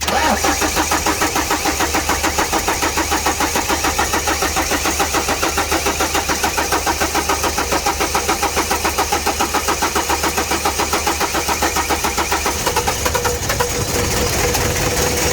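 A Ford Courier diesel engine cranks continuously after new injectors are fitted, a fast rhythmic starter churn that holds steady for most of the stretch before changing near the end, loud and close with no talk.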